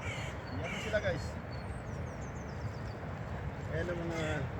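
Several crows caw repeatedly at a moderate distance over a steady outdoor background, with bursts clustered at the start and end.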